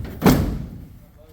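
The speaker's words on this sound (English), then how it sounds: "go ahead and take this door off" A single loud, close thud or clunk comes from the door of a 1972 Dodge truck being removed, then fades into quiet workshop ambience.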